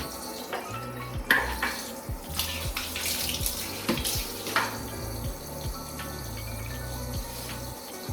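Running water rinses a dog during a bath, a steady tap-and-sink flow with splashing and occasional clinks, continuous and fairly close, no talk.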